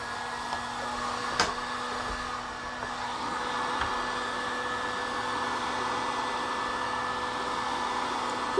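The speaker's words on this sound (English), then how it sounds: "I took my heat gun and I just went around" Heat gun blowing a steady, faint whooshing hum for several seconds while warming a plastic bucket, with a few light knocks and no talk.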